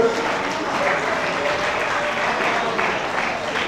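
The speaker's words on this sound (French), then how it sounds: "Applaudissez pour mon épouse" A crowd at a film premiere in a Congolese event hall applauds for the speaker's wife, dense continuous clapping throughout with faint voices mixed in.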